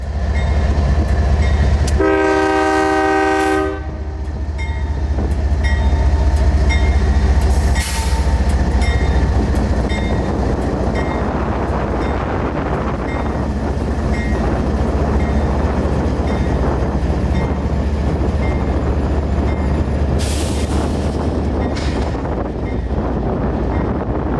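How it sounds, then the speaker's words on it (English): A northbound 17-car loaded juice freight train hauled by two GE Evolution DC locomotives near Bradenton, Florida gives a loud horn blast early on, then rumbles steadily past with wind buffeting the microphone. "two DC Gevos hauling this 17-car loaded juice consist northbound"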